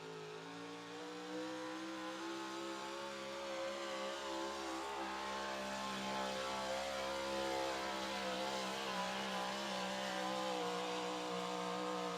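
A heavily modified 4x4 pulling tractor engine revs and roars continuously at a tractor pull in Rock Valley, Iowa, its strained, rising harmonics steady and loud for the whole stretch, with no talking.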